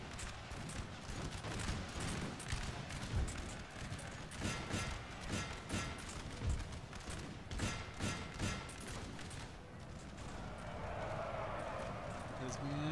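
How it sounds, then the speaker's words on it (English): Heavy cavalry charge and musket fire in Napoleon Total War, with cavalry pursuing fleeing Austrians through a forest: dense clattering hooves and scattered gunfire crackle under steady talk across the whole stretch. "There's mass slaughter as the heavy cavalry pursues Austrians that are trying to run away here in the forest."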